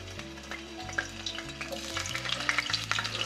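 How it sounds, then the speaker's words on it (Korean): Potatoes fry in oil in a pan over low heat, a continuous close sizzle with light crackles and the scrape of the pieces being turned, plus a low steady hum underneath. "기름이 달궈지면 약한 불에서 감자를 넣고 차지 않게 자주 뒤집어가며 튀겨주세요."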